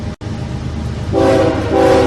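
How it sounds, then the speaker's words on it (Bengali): A cartoon train pulls into a station with a loud, sustained horn blast over the steady rumble of the cars, the horn swelling in the second half. "এরপর ট্রেনটা 1 ঘন্টা লেট করে রাত 8টা নাগাদ স্টেশনে ঢুকলো।"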